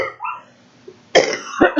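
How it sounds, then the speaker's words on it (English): A person with a sore throat coughs, a faint throat sound first, then two sharp, harsh coughs close to the microphone. "now I'm coughing stuff up"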